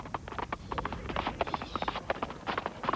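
Horse hooves clip-clop busily on a commercial shoot for Citroën, a dense run of overlapping hoofbeats over constant background noise with faint voices.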